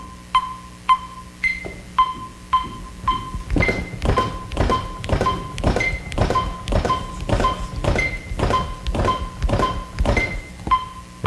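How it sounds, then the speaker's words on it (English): Steady, even metronome clicks at 110 beats per minute, with a higher accent tone recurring regularly, continuing alone for about eleven seconds. "I got my little metronome here so we can hear kind of what that sounds like"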